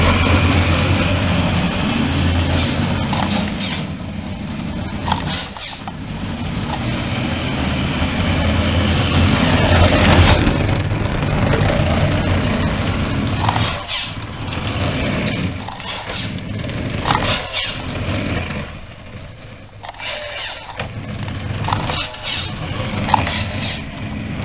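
A remote control Ford car on its practice run, its motor whining steadily and loudly throughout with some surges and dips, broadband mechanical noise dominating with no talk.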